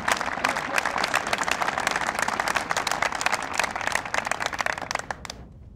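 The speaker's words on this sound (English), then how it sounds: "A round of applause for these organizations and their representatives who are here with us this morning." Applause from an outdoor crowd gathered in the White House Rose Garden for a presidential event, with dense, steady clapping that holds for several seconds and then thins out and fades near the end.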